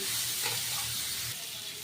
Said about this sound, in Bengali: এখন আমি উল্টে পাল্টে দিচ্ছি